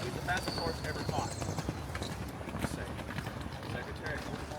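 Racehorses gallop on a dirt track at Keeneland, Kentucky, their hoofbeats a dense, rumbling drumming under steady talk in an outdoor setting.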